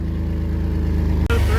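A 2003 Chevy S10 pickup with a 4.3 engine runs loud and close with a pulsing exhaust leak putter, then the engine note jumps in pitch near the end as it revs.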